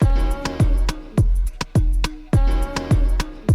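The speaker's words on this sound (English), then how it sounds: "So you can hear that vocal there repeating itself, and that'll just clash with the other track." A DJ loops four beats of a radio-edit track, so a punchy kick-driven groove repeats with its vocal phrase chopped and restarting each cycle, loud and upfront with no talk over it.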